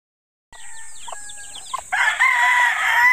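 Newly hatched chicks and hens in a coop: after a brief silence, high cheeping and clucking begin close by, then swell into a dense, louder chorus of overlapping chirps.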